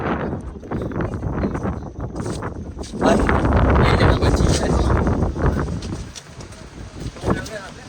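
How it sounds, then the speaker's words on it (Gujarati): Strong monsoon wind on Girnar hill, Junagadh, buffets the microphone in heavy, roaring gusts amid fog, with someone talking over the noise throughout. "પવન તો જો કેવો અવાજ"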